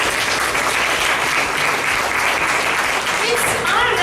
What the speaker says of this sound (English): Can I have a huge round of applause?